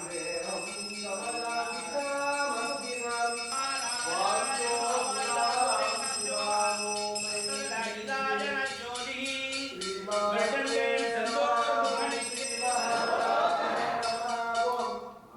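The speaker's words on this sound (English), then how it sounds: "The bell is rung continuously to keep the devotees' attention to the present." A bell rung continuously during a foundation stone laying ceremony at the Murugan temple in Milton Keynes, its bright metallic ringing running steadily throughout, layered among chanting voices and crowd sound.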